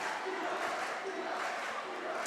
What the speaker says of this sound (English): Crowd getting back into it.